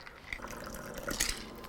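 A cranberry gin drink poured into a sugar-rimmed cup, giving a brief, close, quiet trickle with a few bright splashes near the end.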